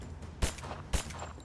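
Two sharp gunshots from the video game Rise of the Tomb Raider, about half a second apart over a steady low game ambience, close and punchy with no talk.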